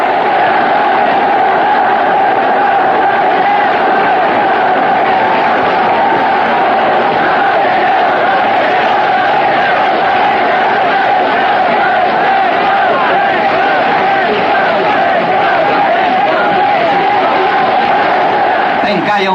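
A large, dense crowd packed around a rally tribune roars continuously, a steady wall of cheering and shouting voices that stays loud and unbroken throughout, with a narrator talking over it.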